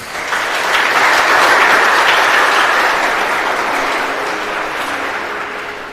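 A congregation applauds during an Easter church service, a dense, steady wash of clapping that swells early, holds, then slowly eases off.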